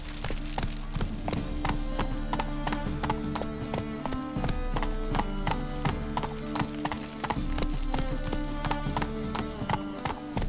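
Roach, the horse in The Witcher 3, gallops with dense, rapid hoofbeats that continue for the whole stretch over a loud bed of game music and ambience, with a faint whinny among them.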